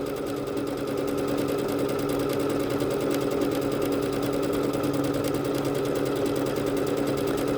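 A Bernette B-77 sewing machine runs a fast swirl stitch in one continuous, even mechanical whir with a rapid regular needle rhythm, close and steady with no talking.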